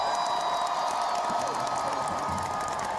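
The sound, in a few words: audience applause and cheering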